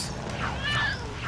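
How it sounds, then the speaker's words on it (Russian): A cat meows in the LEGO City Undercover video game, a short rising and falling cry heard over background game noise, with a voice speaking nearby. "Я слышу кошку."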